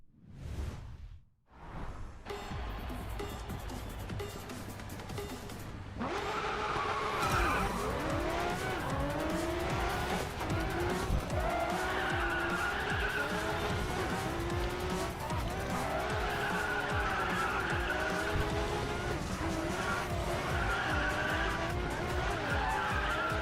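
An NSX races a Reventon in the mobile racing game Racing Master, with roaring engines, repeated tire squeals and skids, and whooshes that go on loudly and continuously after a short quiet start.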